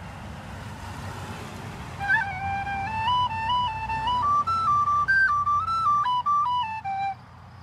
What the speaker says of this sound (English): rather than playing it as a nice fat long note, we would create a roll